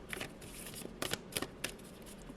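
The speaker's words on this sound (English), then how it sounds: "we're going to give 3 more shuffles" Tarot cards being shuffled by hand, soft riffling and papery slaps in a few quick bursts, close and fairly quiet with no talking.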